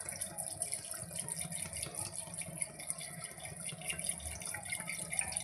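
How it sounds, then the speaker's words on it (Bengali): Water pouring from a vessel into a pot of mutton curry with onions, ginger and garlic, a steady, soft, continuous liquid trickle close by, with no voices. "জল দিয়ে দেবো"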